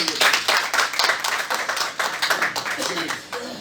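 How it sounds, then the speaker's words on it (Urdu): Audience applause at a PTI Labour Wing ceremony in Lahore, steady dense clapping from a hall crowd welcoming a speaker, continuous and moderately loud throughout, with some voices mixed in. "ہم ان کو خوش آمدید کی تالیاں بجائیں گے"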